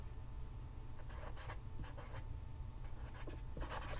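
Handwriting of units in a math lesson on volume, with steady close scratching and short strokes across the whole stretch over a low background hum, and no one talking.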